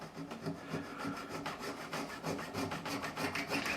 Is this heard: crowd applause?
no